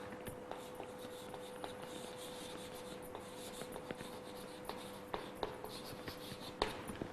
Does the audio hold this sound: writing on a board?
yes